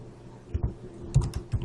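Several quick keystrokes on a computer keyboard, close and fairly soft, come in two short clusters with brief pauses between them.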